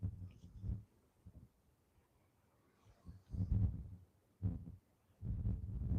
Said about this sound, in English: Mike, thank you for the heartbeat.